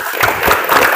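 A classroom of students claps hands together for about a second, a dense, moderately loud burst of overlapping claps with no voices.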